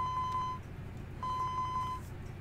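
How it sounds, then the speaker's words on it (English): A cell phone rings in the video game 428 Shibuya Scramble: two bursts of rapid, steady electronic beeping separated by a short pause, faint and clear over a low background hum. "Osawa's cell phone rang."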